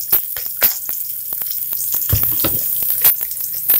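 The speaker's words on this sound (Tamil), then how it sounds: "இந்த வெங்காயம் கொஞ்சம் வதங்கணும்." Onions sautéing in a pan for tomato sambar give a steady close sizzle, with sharp scraping and stirring clicks repeating throughout and no speech.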